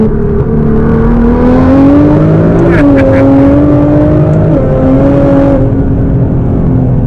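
A turbocharged Nissan GT-R with over 600 wheel horsepower revs and accelerates loudly, its pitch climbing and shifting through gears, with a hiss and faint voices in the background.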